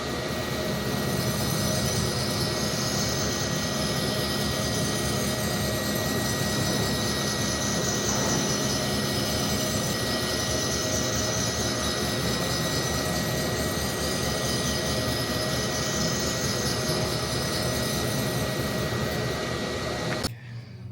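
A Foley 653 reel grinder runs a spin grind program, giving a steady, continuous mechanical whir and hum that holds evenly for about twenty seconds before cutting off abruptly, with no talk over it.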